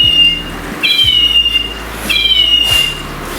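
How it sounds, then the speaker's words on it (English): A chirping cat toy bought from Five Below, pushed along to make it meow, gives two thin electronic chirps about a second apart, close and clear over a low hum, with no talking. "You gotta push it to make it meow."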